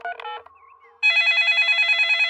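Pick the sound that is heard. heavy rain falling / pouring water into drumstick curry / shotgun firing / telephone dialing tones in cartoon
telephone dialing tones in cartoon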